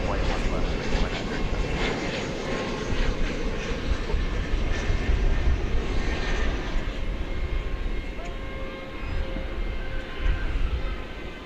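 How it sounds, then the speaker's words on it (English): An airliner arriving from Amarillo at DFW Airport at night, its engines a broad steady roar heard from outside that swells and eases slightly over several seconds. "Here comes the flight from Amarillo."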